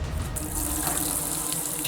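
Water pours steadily from a kitchen faucet fitted with a clip-on LED tap light, a close, loud, continuous hiss and splash lasting the whole moment with no talk.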